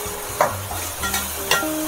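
Onions with turmeric frying in a pan, with a steady low sizzle and a few sharp clinks and scrapes of a spoon stirring against the pan.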